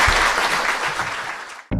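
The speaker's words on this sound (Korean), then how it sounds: "박수 부탁드립니다" A short burst of audience applause in a studio talk show, dense clapping that tapers off before an abrupt cut to another sound.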